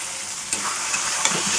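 Potatoes fry in a pan with a steady hissing sizzle, broken by a few light scraping stirs, close by and without speech.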